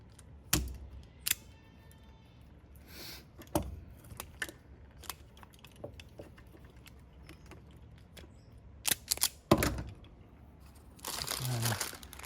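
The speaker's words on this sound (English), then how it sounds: "we're just going to try and trim some of these wires back" Small cutters trimming wires inside a Hoover Decade 80 vacuum cleaner during cord replacement, a few sharp isolated snips and clicks spaced apart, close up with light handling noise and a brief rustle at the end.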